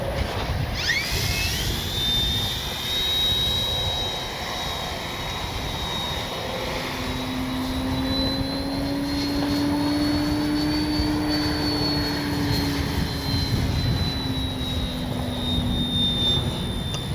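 An Arrows SZD-54 RC power glider flies past outdoors, its electric motor and propeller giving a steady high whine that shifts in pitch as it passes, continuous and fairly loud over wind noise.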